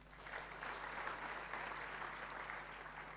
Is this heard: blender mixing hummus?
no